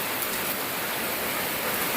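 Rain pours down steadily outdoors, a dense, even hiss filling the air close by with no pauses or voices.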